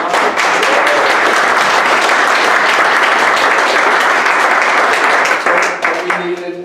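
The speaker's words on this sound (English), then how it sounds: "I think we can give her a real round of applause." A church community gathering gives a warm round of applause: loud, dense clapping from many people close by, sustained evenly before tapering off in the final moments.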